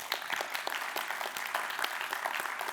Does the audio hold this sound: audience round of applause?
yes